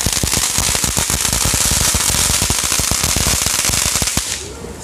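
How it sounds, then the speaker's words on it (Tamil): A long string of firecrackers pops in rapid, crackling succession for several seconds, dense and loud, then stops abruptly. "இது வந்து அடுத்த வெடி."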